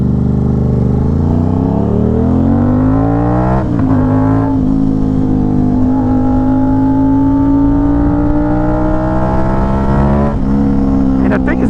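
Aprilia RS660 motorcycle engine revving hard, a loud steady howl that climbs quickly through the rev range, dips briefly and climbs again, close and continuous.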